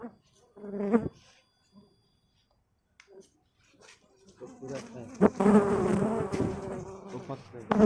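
Honeybees buzzing around a farm or garden hive, a dense droning hum that swells loud in the second half after quieter scattered buzzing, with a brief voice near the start.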